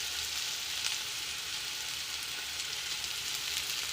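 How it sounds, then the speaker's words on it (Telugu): Potato curry sizzles steadily in hot oil in a pan, a continuous close, dense hiss that holds at an even level throughout with no voices. "ఇది కొంచెం ఫ్రై అవ్వాలన్నమాట."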